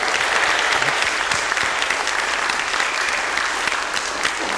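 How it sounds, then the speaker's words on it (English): An audience at a BioBlitz talk on centipedes and millipedes gives the speaker a big round of applause. Loud, dense, even clapping fills the whole span and fades slightly toward the end, with no clear voices. "we'll give you a big round of applause"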